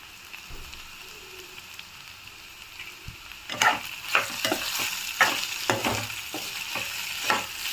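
Beetroot fries in a pan as coconut chili powder goes in, starting as a quiet low sizzle, then growing louder with a run of sharp spatula scrapes and stirring knocks close by.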